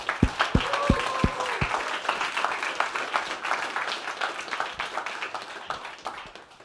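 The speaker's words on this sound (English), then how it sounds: "we just want to give a quick round of applause to all of the teams, all 20, that competed in this competition" A crowd at a startup pitch competition applauds all twenty competing teams, a few loud close claps at first swelling into sustained, dense clapping that slowly fades.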